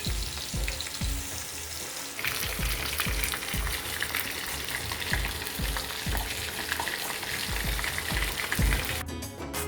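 Masala-marinated fish frying in hot oil in a pan for a festival dish, a loud continuous sizzle and crackle with soft recurring thumps as pieces shift, ending with a sharper spattering burst.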